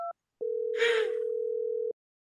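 A telephone busy signal on a failed call: a short two-tone beep, then one long steady tone lasting about a second and a half, clear and close, with a brief hiss of noise over it.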